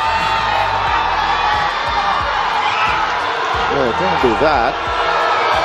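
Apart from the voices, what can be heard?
basketball crowd reacting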